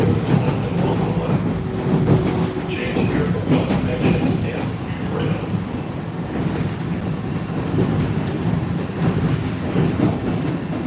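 An MBTA Red Line subway train approaching Quincy Center, heard on board as a continuous loud rumble of rail wheels with intermittent high squeals from the wheels.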